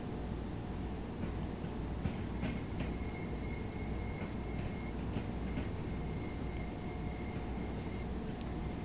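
Class 377/4 electric multiple unit in Train Sim World 2, running as an 8-car train: a steady low rumble of wheels and traction with a faint tonal whine and occasional light rail clicks, continuous and without speech.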